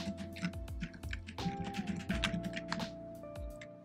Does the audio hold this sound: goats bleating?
no